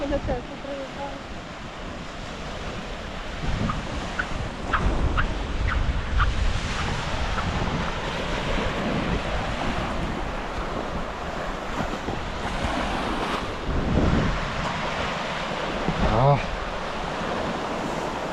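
Strong, cold wind gusts buffet the microphone on the sand dunes at Łeba in Słowiński National Park, Poland, with surf rushing underneath and the roar rising and falling.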